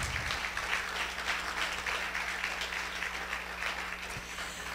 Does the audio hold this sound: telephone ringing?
no